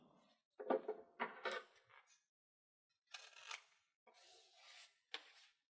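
Scissors snip through balance tape in a few short, close cuts separated by quiet pauses, crisp and faint against near silence.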